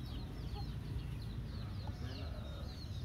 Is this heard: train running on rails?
no